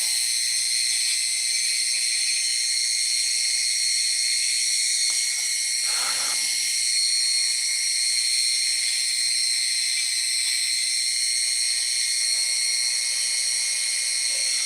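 A drill bores into the center of a beef bone with a steady, loud, high-pitched whine and hiss that continues without break, with a brief lower rumble partway through.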